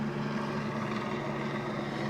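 A helicopter with fuel-hungry turboshaft engines hovers overhead, a steady, loud rotor-and-turbine drone with a low throbbing hum that holds unbroken throughout, with no voices.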